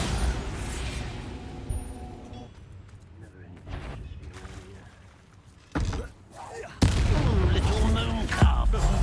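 Confringo and Bombarda spell blasts in the Hogwarts Legacy video game land as a couple of sudden booming impacts. Crackling effects and spoken voices surround them.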